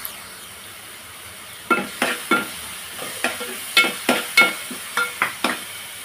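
Sizzling sautéing in hot oil for a tiger prawn masala, with a steady fry hiss broken by a dozen sharp, close stirring bursts at an irregular rhythm; no talk.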